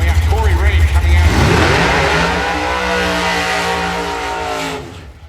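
An NCDO V8 drag racing car revs hard at a drag strip as it comes to the Christmas tree, a loud, close engine roar climbing and sweeping in pitch before cutting away at the end.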